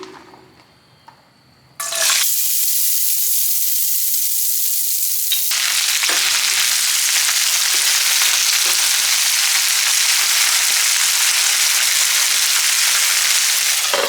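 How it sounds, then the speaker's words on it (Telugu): Cluster bean pieces drop into hot oil in a pan and erupt into a loud, steady sizzle after a quiet start, the frying hiss rising again midway and continuing unbroken at close range. "ఇప్పుడు ఇదే ప్యాన్లో నూనె పోసుకొని చిక్కుడిని ఫ్రై చేసుకుందాం"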